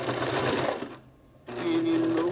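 Sewing machine stitching elastic onto a sweatshirt, running in a steady close whir that pauses briefly mid-way and then resumes at full speed.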